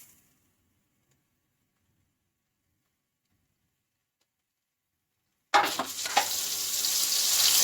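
Chopped onions hit hot oil after several seconds of near silence, bursting into a loud, close, crackling sizzle that continues steadily to the end.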